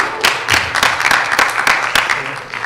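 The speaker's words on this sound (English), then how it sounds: "Please hold your applause till the end of the debate." An audience at a high school presidential debate bursts into brief applause, a burst of scattered claps in a hall that rises and fades within a few seconds.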